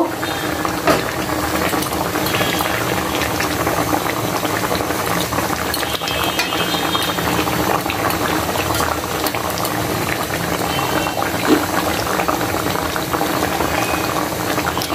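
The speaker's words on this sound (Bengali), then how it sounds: "আমি মাছগুলো দিয়ে দিয়েছি ঝোলটা ফুটে ওঠার পরে" A pot of Bengali fish curry boils steadily. Continuous bubbling and gentle rolling noise are heard up close, with no talk.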